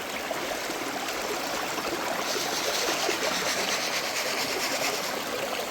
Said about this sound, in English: Just threw on a scoop, see how my sluice is running.